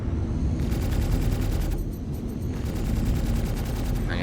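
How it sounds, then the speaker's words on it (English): Ship-mounted guns in the space game Star Citizen fire a long, continuous rapid burst at an enemy ship, a dense, rattling stream of shots over a heavy, rumbling background. "I unleash a full clip on the enemy ship"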